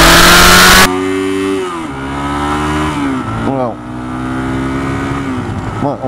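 Car revving and pulling away hard in first gear, engine note climbing in repeated rising sweeps with brief dips between as revs build, loud and close throughout.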